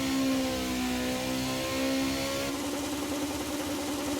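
A car engine revs hard in third gear in a racing video game, a loud, sustained tonal whine climbing in pitch before shifting to a rougher, buzzier note.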